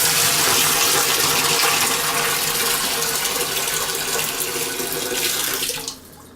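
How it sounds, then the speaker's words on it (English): Water pours steadily into a Grainfather brewing boiler body as strike water, a loud continuous rushing splash that holds for several seconds before abruptly cutting off near the end. "Add the water that will become your strike water to the boiler body without the inner basket."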